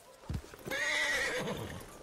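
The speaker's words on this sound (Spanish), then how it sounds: "Ah, no, pero acá hay un caballo" A horse in Red Dead Redemption 2 lets out a loud, close whinny lasting over a second, with hoof clip-clop just before it and no talk over the sound.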